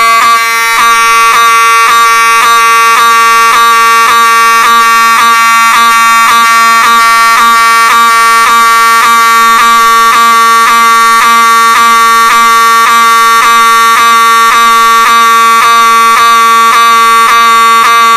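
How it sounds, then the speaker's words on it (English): An animated fire alarm blares continuously at very high volume, a harsh buzzing tone that pulses rapidly and evenly for the whole stretch with nothing else audible. "I am going to pull the fire alarm, and it's going to be very loud."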